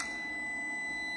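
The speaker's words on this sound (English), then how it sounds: "as I flip this guy off. You'll hear him beep." An EG4 6000EX solar inverter gives a steady high-pitched electronic beep as it is switched off, a continuous faint tone held over low background hum.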